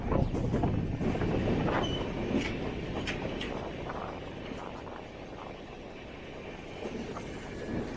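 The Mysuru-Kochuveli Express rolls into Whitefield station with a rumbling rattle of carriages, louder at first and then easing as it slows, with scattered clanks and faint wheel squeals.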